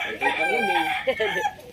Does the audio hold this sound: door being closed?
no